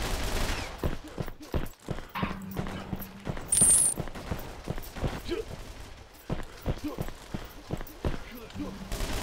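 Rapid bursts of gunfire from a dual-wielded gun in the Red Crucible 2: Reborn shooter game, sharp repeated shots clustered in volleys with brief gaps, close and loud.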